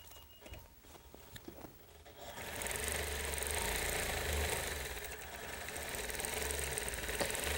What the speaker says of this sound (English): since I have stitched in the ditch on the inner border, there's no reason why I can't continue up this border